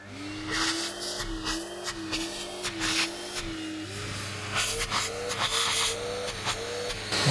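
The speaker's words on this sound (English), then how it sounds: "I'm going to put my vacuum cleaner on the lowest setting" A vacuum cleaner runs steadily on its lowest setting with a droning hum and airy hiss, its pitch wavering slightly, fairly close and continuous throughout.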